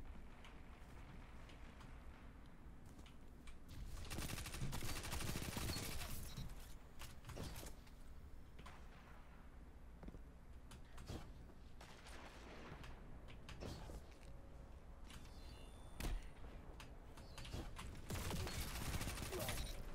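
Multi-mach gunfire in a video game comes as quiet bursts of rapid shots at low level, repeating irregularly over mechanical clicks and clatter.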